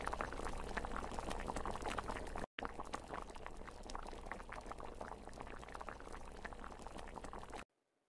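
Water boiling hard in a cooking pot with carrots and tofu, a steady close bubbling roar that runs throughout, with a brief cut near the start and an abrupt stop at the end.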